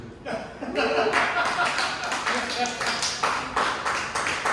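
A small crowd claps together, a dense run of hand claps that continues steadily throughout.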